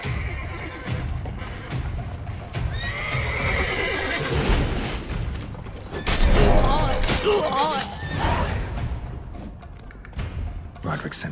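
Horses neigh and whinny amid galloping hoofbeats and background commotion, with a voice shouting briefly over the clamor, in the video game The Witcher 3.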